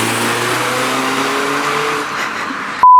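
A passing car's engine drones steadily with a falling pitch as it goes by on the road outside, fairly loud and close, before the sound cuts off abruptly into a brief test tone.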